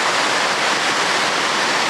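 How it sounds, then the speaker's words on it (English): A large waterfall near Mendenhall Glacier in Juneau, Alaska roars as a steady, loud, dense wash of falling water with no pauses and no voices. "Get a little bit more of the full effect of the size of the falls"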